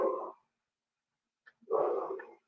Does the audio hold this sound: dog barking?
yes